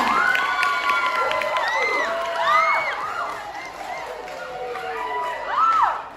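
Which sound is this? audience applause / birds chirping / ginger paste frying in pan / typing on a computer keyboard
audience applause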